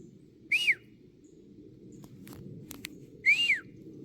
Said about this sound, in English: That was a really good whistle.